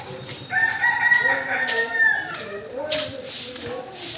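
A rooster crows loudly and close at a chicken shop in a village market in Assam, one long drawn-out call followed by softer clucks from other poultry.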